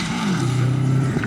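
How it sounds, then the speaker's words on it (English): A Subaru rally car on a stage of the 2004 Swansea Bay Rally, engine note rising and then holding a loud, steady drone as it passes close by. "Bob Keene's the next one we see in his Subaru"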